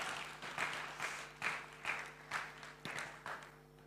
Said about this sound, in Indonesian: Tepuk tangan teman-teman buat Melody.